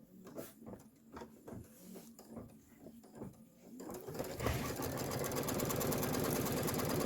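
An embroidery sewing machine stitching a quilt block in the hoop starts with a few uneven mechanical clicks and thumps, then settles into a loud, fast, steady whirring rhythm that runs to the end.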